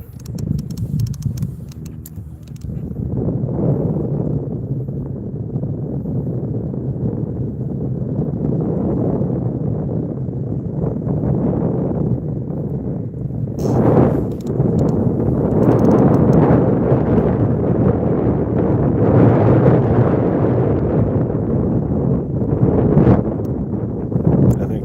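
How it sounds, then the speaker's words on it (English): Strong lake wind buffeting a microphone during a fishing outing, a loud, continuous low rumble that swells in gusts and never lets up across the whole stretch. "This wind is kicking my butt."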